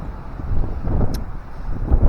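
Strong wind at the seaside in Brela, Croatia, buffets the microphone with a continuous loud low rumble and gusty roar throughout, with no voices.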